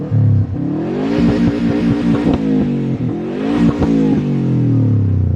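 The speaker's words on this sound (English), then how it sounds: "It's got a nice little like crackle pop." A Subaru WRX engine revs twice with rising and falling pitch, the exhaust crackling and popping sharply between the revs, close and loud.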